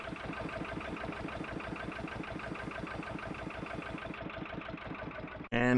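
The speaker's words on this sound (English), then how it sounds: "And engine off." A Minecraft train engine runs with a steady, fast rhythmic chugging throughout, moderately loud and unbroken, before a sudden louder burst of sound at the very end.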